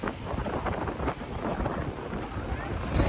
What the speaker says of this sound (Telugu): బాబోయ్ ఇండియన్ ఓషన్ అలలు ఎక్కడ కొడుతున్నాయి